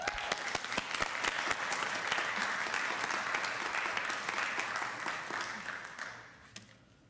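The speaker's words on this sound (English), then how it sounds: "So please give Cynthia a round of applause." A city council meeting audience applauding, a steady dense patter of many hands clapping for several seconds that gradually fades out toward the end.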